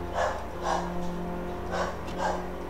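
A dog barks four times in two quick pairs, fairly close and moderately loud, over a steady low hum of background engine noise.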